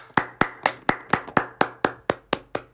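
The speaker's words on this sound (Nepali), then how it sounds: "सबैजनालाई चाहिँ ताली।" Hands clap close by in a steady, even rhythm, about a dozen sharp claps in under three seconds, with no voices over them.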